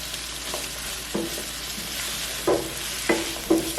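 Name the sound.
apple slices sauteing in a pan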